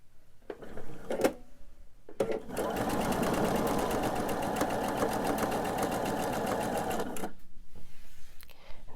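A sewing machine runs in one steady stretch, stitching fabric pieces for a candy dish pillow, with a short burst beforehand and a few small handling clicks around it.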